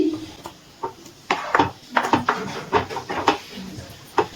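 Spoon clacking and scraping in a pan while papaya chutney with soaked cashews and raisins is stirred, a run of sharp, close knocks and scrapes at irregular intervals, no talk.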